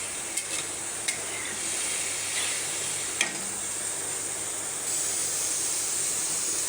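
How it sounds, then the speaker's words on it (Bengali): Fried taro sizzling hard in a pan after water is poured in, a steady loud steamy hiss with a few sharp crackles and pops over it. "এবার এর মধ্যে জল দিয়ে দিচ্ছি"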